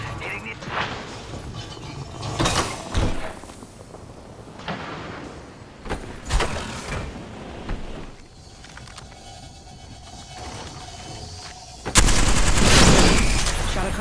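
Gunfire from an Apex Legends match strikes a cargo box, with sharp bursts of shots and impacts at irregular intervals and a loud, dense blast near the end.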